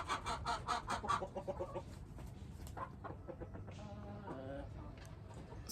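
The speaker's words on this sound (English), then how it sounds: "That is a sound from the hens." Village hens clucking and calling close by on an East African homestead, repeated short bursts through the clip, with some low background noise.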